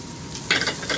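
Broccoli rabe sautéing in a pan, a close, brief burst of sizzling frying noise that swells suddenly midway.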